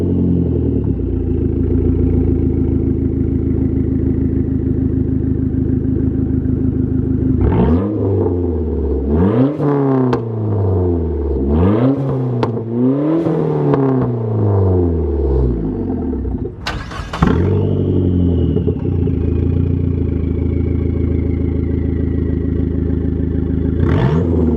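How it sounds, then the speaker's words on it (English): Dodge Neon SRT-4 with its exhaust cutout closed, the engine revving in several rising and falling bursts after a steady idle, loud and close, with a sharp clatter near the end before settling back to idle. "it does sound really good with the cutout closed and the exhaust coming out the back too"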